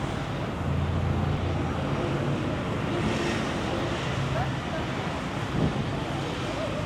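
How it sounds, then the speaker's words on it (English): Wind gusts across an outdoor street in Phuket, a steady broadband roar buffeting the microphone for the whole stretch, with low rumble and faint traffic-like hiss beneath and no speech. "Hopefully this wind dies down."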